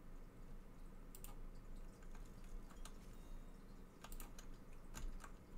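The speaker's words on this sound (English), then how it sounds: "you will hopefully soon not be hearing my mouse and keyboard" Scattered faint clicks of a computer keyboard and mouse come through during a Planet Zoo gaming session. They sound in irregular bursts against a quiet, hissy room background.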